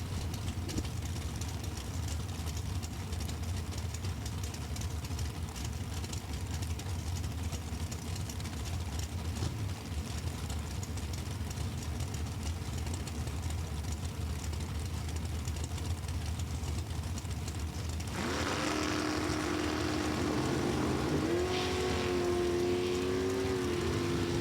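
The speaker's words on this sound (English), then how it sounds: "99 dragster chassis, 383 cubic inch small block" Super Comp drag racing at National Trail Raceway: a 99 dragster chassis with a 383 cubic inch small block engine, heard as a steady engine drone throughout, with a louder, rising higher-pitched tone joining near the end.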